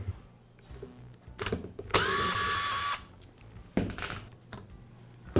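Power tool whirring in a long burst and a few shorter bursts while removing the front gear case of a Milwaukee impact wrench, close and loud, with quiet handling noises between and no talking.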